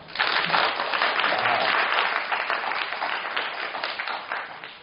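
Audience applause at a lecture on companion robots, a steady sustained burst of many hands clapping, loud and continuous throughout with no speech over it.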